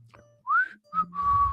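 A person whistles a short tune live on a radio show: a rising note, a brief gap, then a clear, steady held tone, loud and close with no talk.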